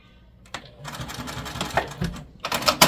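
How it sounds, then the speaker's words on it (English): A sewing machine stitches partway through a quilt piece for a spring sew-along, starting after a short pause and running in a steady, fairly close mechanical whir that grows louder toward the end. "I'm going to sew about halfway through this."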